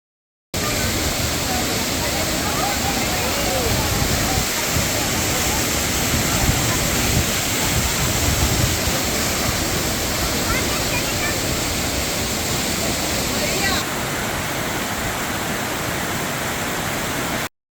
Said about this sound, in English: Many visitors choose to cool off in the refreshing pools and waterfalls at Juan Diego Creek, just a short walk up from the road.